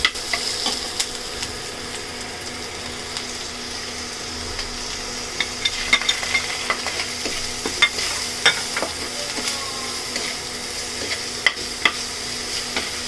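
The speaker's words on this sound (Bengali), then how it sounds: "পেঁয়াজ দিয়ে দিচ্ছে, হালকা বাদামি হয়ে এসেছে। আমি এখন মশলাগুলো দিয়ে দিচ্ছি।" Onions frying in a pan with spices just added for a tuna fish dish, a steady close sizzle with scattered stirring scrapes and clicks running throughout, no voices.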